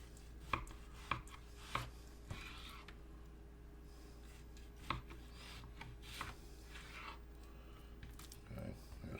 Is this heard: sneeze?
no